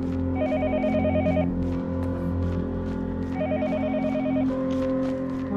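A phone booth telephone rings in the video game Yomawari: Night Alone, its electronic bell trilling in two repeated bursts over a low steady ambient hum, fairly loud and close.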